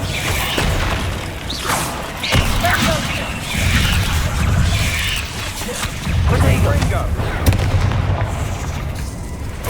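Bombarda explosion spells cast in Hogwarts Legacy: heavy booming blasts and crackling impacts come in several waves over a loud, continuous rumble of combat, up close, with speech mixed in.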